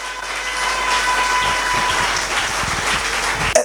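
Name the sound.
congregation applauding and cheering in church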